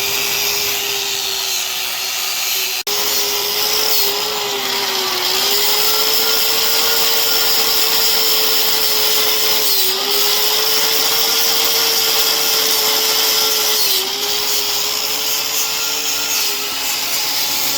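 A Harbor Freight power tool strips splattered paint and rust off an old metal surface, with a loud, steady whine that dips briefly as it bears down on the work, close and alone.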